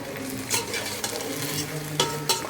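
Chicken biryani masala is stirred in a hot pan, a close sizzling hiss with a few sharp scrapes of the spoon against the metal, with no talking.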